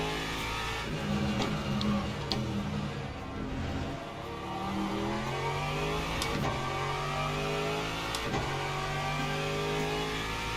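An LMP2 race car engine in the Le Mans Ultimate racing game revs through a series of rising gear pulls with brief shift breaks, steady and moderately loud, with no talk.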